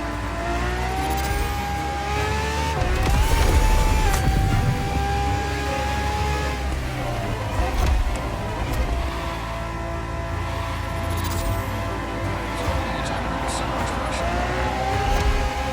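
A Ferrari R&D test racing car in The Crew Motorfest revs and roars continuously, its engine pitch rising and falling with gear changes while a voice narrates over it.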